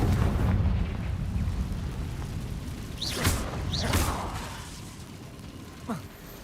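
Two sharp Confringo spell blasts in Hogwarts Legacy burst close together over a loud rumbling game background, with a smaller pop trailing shortly after.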